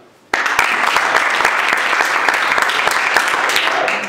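Comedy club audience bursting into steady, dense applause after a short silence, sustained clapping at close range for several seconds before tapering at the end.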